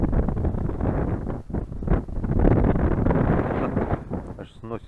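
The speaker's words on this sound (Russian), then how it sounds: "Ветер поднялся." Strong wind on a frozen lake during ice fishing buffets the microphone in heavy low roaring gusts that swell and ease, close and loud.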